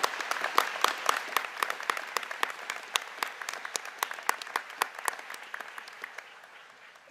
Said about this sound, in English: Join me in a round of applause to congratulate all academic excellence recipients.